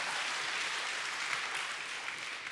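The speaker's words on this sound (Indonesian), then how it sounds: "Yang mengerti berikan tepuk tangan bagi Allah kita." A church congregation applauds during an Indonesian Sunday service, a steady, distant wash of clapping that fills the short moment without any voice over it.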